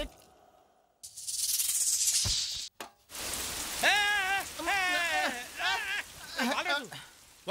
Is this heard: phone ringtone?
no